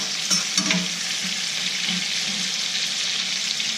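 A prime beef ribeye sears over very high heat in a stainless steel All-Clad pan with crushed garlic, producing a loud, dense, continuous hiss and sizzle with a few utensil knocks at the start.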